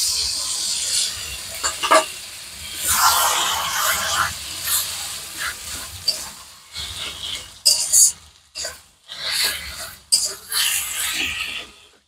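Food being sautéed and stirred in a pan in a home kitchen, with bursts of sizzling and the scrape of a spoon against the pan coming in irregular waves, close and fairly loud.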